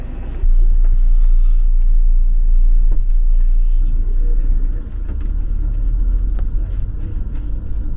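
Replacement bus engine rumbling steadily from inside the coach, a deep constant low drone that dips slightly partway through, with faint cabin noises on top.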